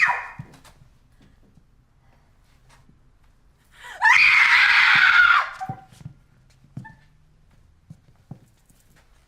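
A woman screams in a tense film scene, one loud sustained high-pitched shriek lasting over a second, surrounded by quiet room sound and soft movement.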